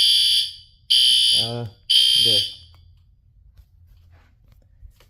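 Two loud bursts of a harsh, high-pitched fire alarm tone from a fire alarm panel system test, each under a second, with a brief voice between them, then a quiet room hum.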